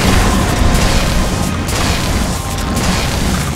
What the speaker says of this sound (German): Ich bin explodiert.